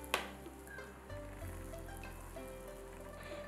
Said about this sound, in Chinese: 电饼铛预热，刷上一层食用油，倒入调好的面糊